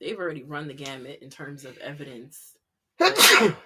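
A single sharp sneeze bursts out near the end, right after a stretch of conversational talk and a brief pause, close and loud against the quiet room of a podcast.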